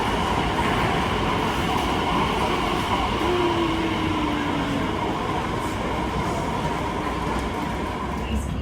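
Steady rumble and hum of a moving English train carriage bound for Norwich, with a constant low drone and brief squeal, heard from inside; faint voices may be present.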